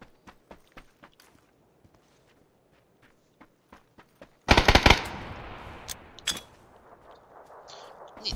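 Video game gunfire in a squad battle, starting with scattered footsteps and clicks, then a sudden loud close burst of rapid shots, followed by a noisy rattling tail and a few more isolated sharp hits.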